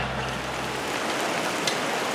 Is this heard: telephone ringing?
no